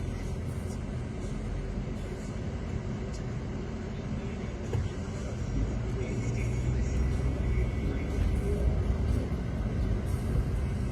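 A car cruises at highway speed on a smooth road between Jamshedpur and Lucknow, giving a steady low tire-and-engine rumble that swells slightly toward the end, with no talking.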